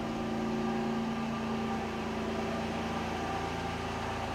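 A Ford Escape 4x4 with 102,000 miles idles with a steady, even hum and a faint whine on top, close and constant with no voices.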